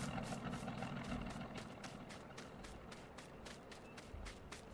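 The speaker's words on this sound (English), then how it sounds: "Leave this engine running." A tractor engine idles steadily in Farming Simulator 19, a low, even rumble held at a constant level with faint rhythmic ticking over it and no talking.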